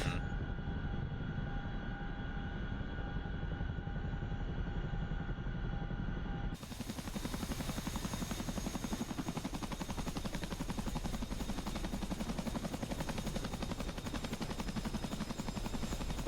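A Chinook helicopter in a combat video game drones with a steady low rotor and engine rumble. The tone shifts to a broader, noisier roar partway through and holds at that level, with no talk.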